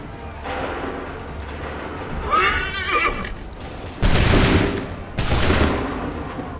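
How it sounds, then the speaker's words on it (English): Musket volleys in the Assassin's Creed III video game, heard as two loud broadband blasts late in the clip, following a horse's whinny and shouting amid a battlefield din. "Prepare yourselves. Fire! Hold fire! Fire!"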